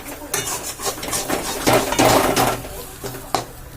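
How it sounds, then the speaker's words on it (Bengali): A spoon scraping and stirring lentil paste in a pan, set over black cumin seeds tempered in oil, making a steady run of close scrapes and clinks with no talk. "এটা ভালোভাবে নেড়ে নেড়ে এটাকে জমিয়ে নিতে হবে।"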